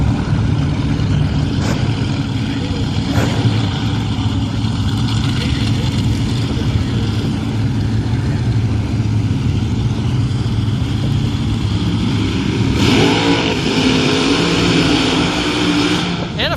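An altered and a front-engine dragster at a nostalgia drag racing event, a loud, sustained engine roar that surges and rises near the end, with background voices mixed in.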